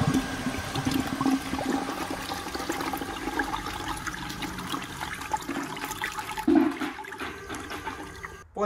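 Water pushed by an electric pump flows through a supercharger heat exchanger on a Cobra cooling system test, a steady rushing, gurgling stream running throughout, close and moderately loud with a brief splash near the end.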